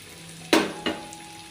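Chicken kizhi puffs drop into hot oil in a small pan, giving two sharp, close sizzling bursts about a third of a second apart, each fading quickly over a steady low background hum.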